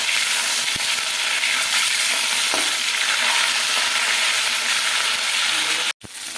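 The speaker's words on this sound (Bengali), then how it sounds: "মাছটা ভাজা হয়ে গেছে, তুলে নেবো।" River bele fish sizzles loudly and steadily in hot oil in a pan, a constant crackling hiss that cuts out briefly near the end.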